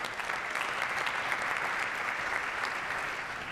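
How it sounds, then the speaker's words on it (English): Audience applause at the FIFA Arab Cup Qatar 2025 draw ceremony, a steady, moderately distant wash of clapping from a large hall crowd sustained throughout. "I was hoping for the applause before I could talk."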